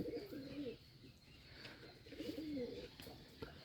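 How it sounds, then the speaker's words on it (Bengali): Rajshahi Giribaz pigeons, one biscuit-coloured, coo softly in a loft, two low rolling coo phrases separated by a short pause, faint and close. "দেখুন রাজশাহী গিরিবাজের ডাকে বিস্কিট কালার কীভাবে এক সুন্দরভাবে ডাকাডাকি করতেছে।"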